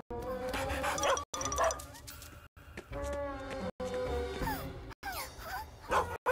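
A cartoon service dog barking in short bursts amid a busy, music-filled cartoon soundtrack, the yaps loud and close with brief silent breaks between them.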